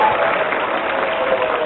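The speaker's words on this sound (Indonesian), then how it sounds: "Tepuk tangan yang meriah." A television studio audience at a comedy talk show claps steadily in a dense, even wash of applause, with no voices on top.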